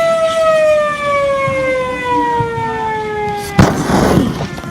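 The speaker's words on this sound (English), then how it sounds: "let's show you guys the siren" A loud siren tone slowly winds down in pitch, then cuts off with a sudden clunk and rumble.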